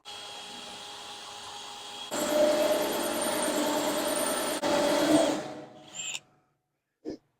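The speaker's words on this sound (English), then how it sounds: "we got to drill us a big old hole" A power drill bores a large hole through the metal body of an S10 Blazer during a party deck build, its motor whining steadily and loudly for several seconds, rising in strain, then winding down and stopping.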